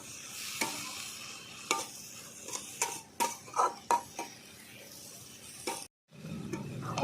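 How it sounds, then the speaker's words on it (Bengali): Vegetables, including drumstick stalks, sautéing together in a pan for a prawn curry: a soft sizzle under repeated sharp clinks and scrapes of a spatula against the pan, close and uneven, with a short gap near the end. "ভালো করে আমি একই সঙ্গে কষিয়ে নেব সব"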